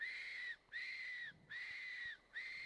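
Small metal whistle blown to lure an eagle outdoors among gum trees, giving four clear, shrill, steady toots in a regular rhythm with brief gaps, moderately close.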